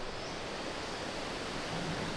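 A river flows through a botanical garden in Java, Indonesia, giving a steady, unbroken rush of water that stays even and fairly loud throughout, with no voices over it.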